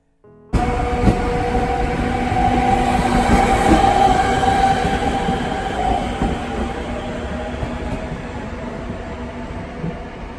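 A passenger train heading to Ljubljana, Slovenia rumbles steadily along the rails, with a loud continuous roar, faint wheel squeal and rhythmic clatter that eases slightly as it continues.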